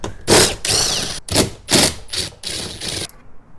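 Bolts being worked loose on the front door panel of a GMC/Chevy truck: a series of sharp ratcheting bursts and clicks in irregular clusters, close and fairly loud, with brief pauses between, no talking.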